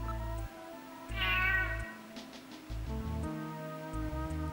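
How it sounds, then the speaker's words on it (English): Kitten meowing in the Sega CD game Snatcher, a single thin, high mewing cry in the middle of a low, looping synthesized game soundtrack. "Yep, that sounds like a kitten."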